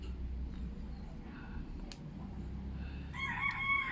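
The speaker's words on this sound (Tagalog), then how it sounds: "pakinggan nyo yung manok namin" A rooster crows in the background over a steady low rumble, with a brief bright call near the end.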